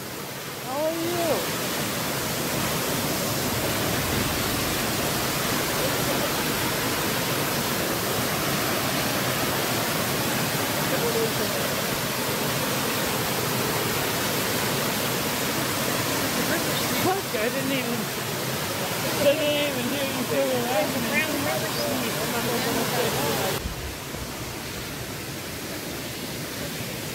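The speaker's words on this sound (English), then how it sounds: "Zakc, we're right next to the waterfall." A mountain waterfall roars close by as a steady, loud broadband rush of falling water that fills the whole stretch and eases slightly near the end.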